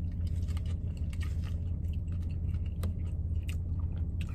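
Close, steady chewing of a cheeseburger, with soft wet bites and mouth sounds continuing alone for several seconds.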